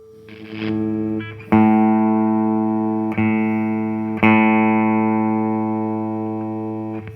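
A tuner app plays a steady electronic tone holding the note A with strong harmonics, restarting sharply three times and slowly fading between attacks; no voices.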